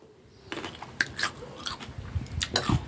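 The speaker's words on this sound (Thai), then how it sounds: "เดี๋ยวกัดดังกรอบเลย" Crunchy bites into star gooseberry seasoned with sugar, fish sauce and chili, a few crisp chewing crunches spread over a few seconds, close and fairly quiet, with no talking.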